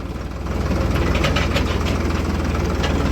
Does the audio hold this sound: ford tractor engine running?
yes